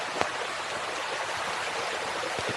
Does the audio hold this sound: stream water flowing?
yes